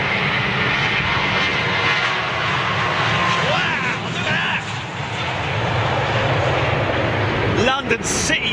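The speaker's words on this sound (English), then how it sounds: "Listen to that. Trent 500s." An airliner powered by Rolls-Royce Trent 500 engines at Heathrow Airport gives a loud, steady broadband engine roar nearby, with a short clatter of other noise near the end.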